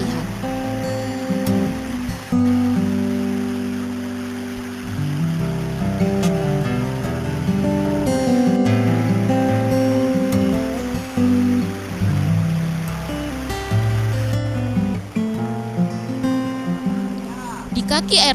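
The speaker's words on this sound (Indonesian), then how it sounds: "Di kaki air terjun Patikore atau di tingkatan terakhir air terjun ini" The Pattikorek waterfall, roughly 100 meters tall and 40 meters wide, sends a steady rush of falling water across the whole stretch while someone speaks over it.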